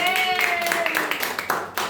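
Clapping from a class during an elementary (grade 5) science practical lesson: a short burst of hand claps mixed with children's and teacher's voices talking over it.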